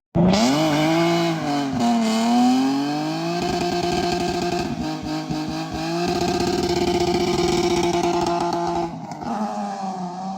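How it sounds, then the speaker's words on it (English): A BMW straight-six engine revs close by, the pitch climbing and falling through several throttle blips before settling into a loud sustained high rev, with no talk over it. "This is what a straight 6 could sound like."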